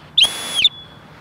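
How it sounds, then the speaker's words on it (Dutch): A single loud, shrill dog recall whistle blast, held about half a second with a sharp rise at each end, close to the microphone. "Het hier komt fluitje aanleren vind ik persoonlijk heel fijn, want het is een duidelijk geluid."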